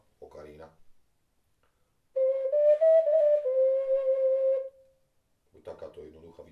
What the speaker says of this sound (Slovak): a tak vznikla okarína.